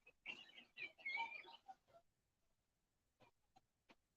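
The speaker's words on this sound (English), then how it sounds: "I just heard a rooster crow." A rooster crows in a burst of harsh, ragged calls over the first two seconds, fairly near and loud, followed by a few short, sharp clucks or chirps after a pause, with no talking.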